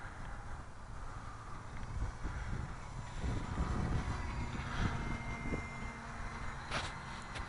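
Radio-controlled model airplane engine droning at half throttle in gusty wind, a steady moderate buzz that swells and fades as the plane passes at a distance, with wind noise underneath.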